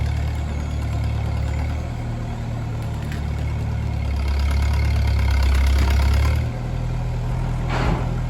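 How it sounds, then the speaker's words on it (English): A good old Massey Harris 30 tractor with a badly rattling throwout bearing runs steadily at close range, a continuous low engine drone with a faint mechanical rattle and no talking. "Got a throwout bearing that's rattling pretty bad, but it's a good old tractor."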